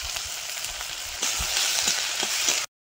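Bay leaf, five-spice, chopped onion and crushed garlic frying in oil over a clay stove, a steady close crackling sizzle that grows denser and louder partway through, with no talking.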